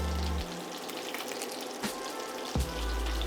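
A halved, crushed garlic clove and hot pepper fry in a pan for a Carpathian chanakhi roast, giving a steady close sizzle with a few sharp pops and spits, with no talking.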